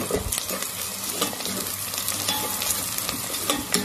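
Fresh green garlic fries in oil in a pan, stirred repeatedly, giving a busy sizzle broken by scraping and clattering strokes at an uneven rhythm.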